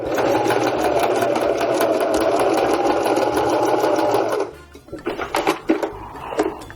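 A sewing machine runs steadily and loudly while stitching around a circular piece of fabric for a puxa-saco, then stops, leaving a few clicks and handling noises.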